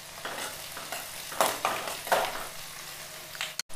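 Chopped shallots and cut dried red chillies crackle and sizzle in hot coconut oil for a tempering, with spluttering bursts as they hit the pan and a sharp clink near the end.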